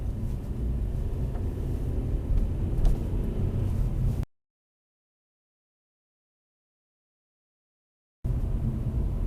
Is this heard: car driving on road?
yes